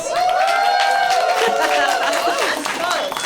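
A live comedy show audience claps and cheers loudly and steadily throughout, voting for animal noises, with shouts and whoops rising over the continuous applause.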